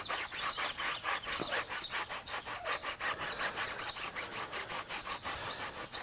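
A foam applicator block wipes wheel coating around a new tire on an F56 Mini Cooper, making a close, rapid, rhythmic back-and-forth rubbing that continues steadily without talk.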